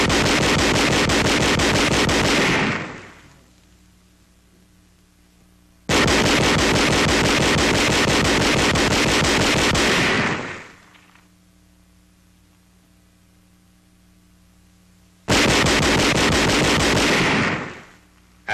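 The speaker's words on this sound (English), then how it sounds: "Employing the captured 20mm gun on 2nd January, enemy targets a half-mile away are brought under indirect fire." A captured 20mm gun fires at enemy targets in three long bursts of rapid, loud, harsh shots, each lasting several seconds, separated by quiet gaps.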